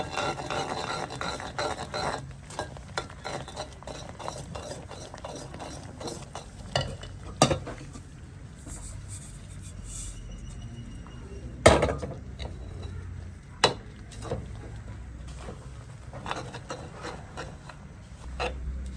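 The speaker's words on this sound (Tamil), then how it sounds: "நல்லா கிளறுவோம்." Rava semolina dough is stirred in a pan, giving a soft, steady scraping and rubbing with occasional sharper knocks of the spoon against the pan, close and fairly quiet.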